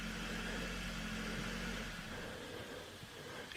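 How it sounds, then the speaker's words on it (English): A car engine idles with a steady low hum, quiet and continuous before easing off partway through, with no voices over it. "You shut that engine off."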